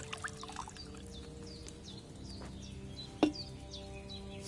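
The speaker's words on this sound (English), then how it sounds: "So, what did you pour in there? Wine, of course." Wine poured into a cauldron in Kingdom Come: Deliverance 2, a soft trickling pour under outdoor birdsong with chirps, and one sharp knock near the end.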